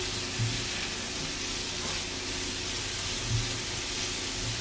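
Chopped onions and jalapenos, seasoned with a little salt, sweat in a hot pan, giving a soft, steady, low sizzle and faint hiss with no voices.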